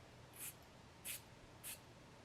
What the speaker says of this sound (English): Let me see if I can spray it so you can see it.